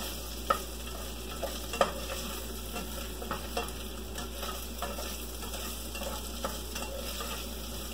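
Leftover turkey meat frying in a pan, a soft continuous sizzle under a low hum, with sparse light taps and scrapes as it is stirred, a couple of sharper clicks early on.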